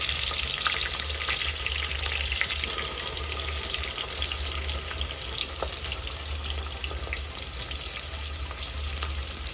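Onion frying in oil with whole spices for a homemade chicken pulao, a steady, dense sizzle and crackle that runs unbroken and fairly loud throughout, with no voices.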